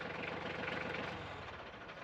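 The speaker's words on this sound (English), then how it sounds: "Turn the tractor off." Tractor engine idling near a pig barn, a steady close chugging rumble with an even low knocking rhythm throughout and no talking over it.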